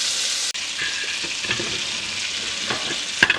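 Garlic and onion fry in half a stick of melted butter on a stovetop, giving a steady, close sizzle with a few sharp pops and clicks of stirring near the end.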